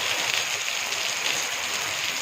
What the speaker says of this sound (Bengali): এত অত্যাধিক বৃষ্টি হচ্ছে, বিশাল বৃষ্টি হচ্ছে